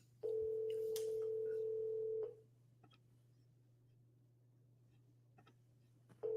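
A telephone ringback tone on an outgoing call, one long steady electronic tone lasting about two seconds, then quiet line hiss with faint clicks before the next ring begins, over a constant low hum.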